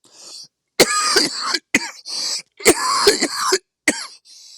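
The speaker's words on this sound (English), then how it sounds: "I apologize for the coughing." A person coughs in a series of harsh, close bursts, separated by short breathy pauses.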